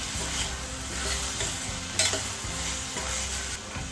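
Grated coconut and snake gourd sizzle steadily in a hot pan while being stirred, with occasional scraping knocks from a utensil; no talking.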